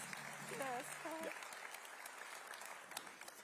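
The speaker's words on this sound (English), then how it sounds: "the more photos John takes, the more applause you get" Applause at an award presentation during a Liberal Democrats conference, a soft, distant patter of many hands, with a voice speaking briefly near the start.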